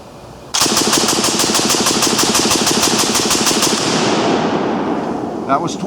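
An open-bolt gun fires a 20-round magazine as one loud, close, rapid-fire burst of evenly spaced shots lasting about three and a half seconds, then fades into an echoing tail.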